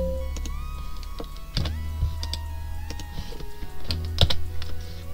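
Close keystrokes on a computer keyboard, pressing Ctrl+P to print, give scattered sharp clicks in irregular rhythm over a steady low electrical hum, with no voices.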